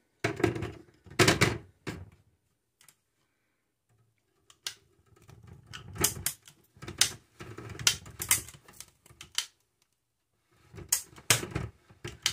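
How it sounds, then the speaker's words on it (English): A jerky gun pushing ground beef makes irregular sharp pops and clacks in scattered bursts separated by silent gaps, close and fairly loud, with no talking. "If your dispenser starts popping, no big deal."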